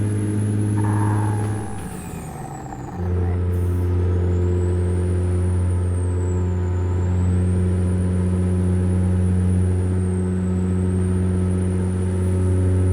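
A late-1970s Freightliner FLA truck hauling steel drones with a loud, steady diesel hum inside the cab; the pitch dips briefly during a gear shift, then settles back into a constant low rumble.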